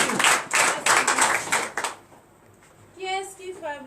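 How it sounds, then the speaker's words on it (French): A congregation at a morning prayer service in Benin claps in quick, loud bursts for about two seconds, then the clapping stops and a voice speaks. "Donnez l'acclamation"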